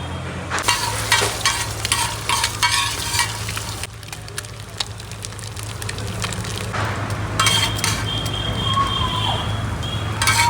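Curry leaves, grated coconut and sesame seeds crackling in a hot tempering at a Surat street egg stall, a loud close sizzle with rapid scraping and clattering of a spatula, people talking nearby underneath.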